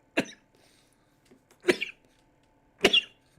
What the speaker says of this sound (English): That expression gave me a coughing fit.